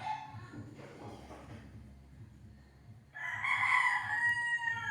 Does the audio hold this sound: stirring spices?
no